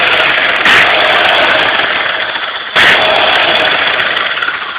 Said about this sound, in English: That's my grandpa's grinder.